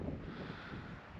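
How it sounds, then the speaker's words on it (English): Wind gusting across the microphone on a snowy Flattop Mountain trail, a loud, continuous low rumble and buffeting with no other sounds. "The wind is picking up, but the snow is thinning out."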